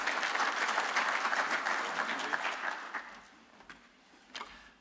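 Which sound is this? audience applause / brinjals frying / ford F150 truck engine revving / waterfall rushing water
audience applause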